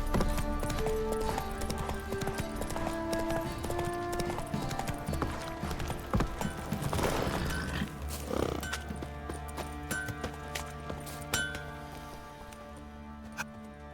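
The horse Roach trots in The Witcher 3: Wild Hunt, with a steady clip-clop of hooves over game ambience and a short snort or whinny, the hoofbeats fading somewhat toward the end.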